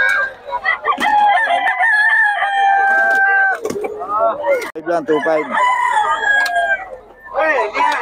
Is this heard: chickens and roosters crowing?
yes